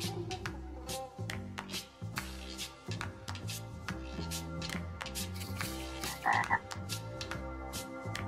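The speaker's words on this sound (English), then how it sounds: "A frog! It is a frog!" A frog croaks loudly and repeatedly in a steady pulsing rhythm, layered over dense musical or background sound, with a brief higher chirp near the end.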